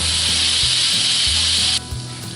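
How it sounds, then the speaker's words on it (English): Butter sizzling loudly in a hot pan used for a mushroom gravy, a dense steady hiss that drops off sharply near the end with a low hum underneath. "I'm going to add some butter now as we make up the rest of our gravy."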